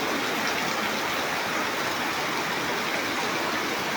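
Heavy rain pours down in a steady, dense hiss, loud and unbroken with no voices over it.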